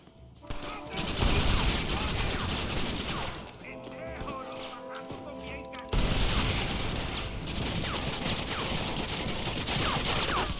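Dense, rapid video game gunfire, loud and continuous bursts of shots and impacts, briefly easing in the middle with a tonal mechanical sound before the heavy firing resumes.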